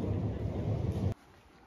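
Thunder rumbling through a rainstorm over a farm courtyard in rural Gansu, a loud, dense low roar that holds for about a second before cutting off abruptly into quiet hiss.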